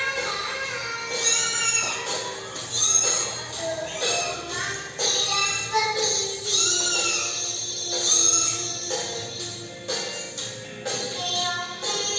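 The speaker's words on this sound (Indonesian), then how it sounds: "ini video tentang seekor hewan yang mesti kalian sudah tahu, yaitu tentang kucing" A cat meows again and again in a recording played for a primary school class, the repeated mews standing out clearly over a steady background for the whole stretch.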